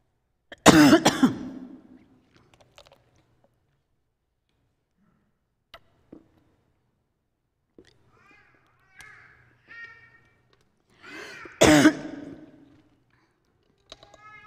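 Two harsh, loud coughing fits from swallowing wrong, several seconds apart, each a burst of rough hacks, with faint throat sounds and murmurs in the quiet between.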